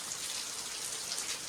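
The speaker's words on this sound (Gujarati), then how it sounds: "શ્રાવણ મહિનો છે ને પહેલો દિવસ છે એટલે વરસાદ તો આવે જ છે." Steady rain falls on the first day of the Shravan month, a dense, even hiss of drops on surfaces, loud and continuous with no voices.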